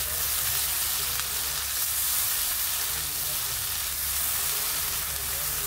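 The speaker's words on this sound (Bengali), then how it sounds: "এই মশলাগুলো ভালোভাবে কষে নিব তেলের সাথে।" Spices frying in oil for a spiced catla fish curry, a loud steady sizzle and hiss filling the whole stretch without a break, close to the pan.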